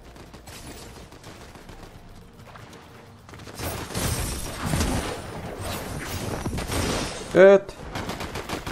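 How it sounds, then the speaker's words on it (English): Bursts of automatic gunfire in a Fortnite match, rattling volleys that grow louder midway, with a player talking and a short exclamation over the shooting. "someone is shooting me"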